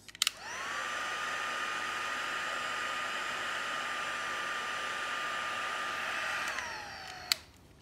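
A heat embossing gun melts white embossing powder on cardstock, blowing a loud, steady whine and rush of air for several seconds before it clicks off near the end.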